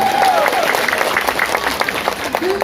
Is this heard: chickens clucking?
no